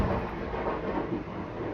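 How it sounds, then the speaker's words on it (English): Thunder from a lightning strike rolls as a low, broad, steady rumble, faint and fairly distant, with no voices. "that was lightning"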